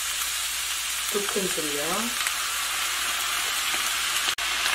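Sliced onion sizzles loudly in a hot frying pan, a dense steady hiss and crackle throughout, with a voice speaking briefly over it.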